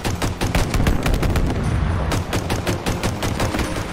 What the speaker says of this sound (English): I have a pistol that shoots rockets.